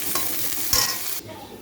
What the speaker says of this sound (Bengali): ফোড়ন দিয়ে দিলাম কালো জিরা শুকনো লঙ্কা